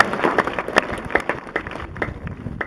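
Audience at a 2012 Rim of the World High School graduation claps together, a dense, steady patter of many hands at moderate loudness, with a few sharper claps standing out and faint crowd noise underneath.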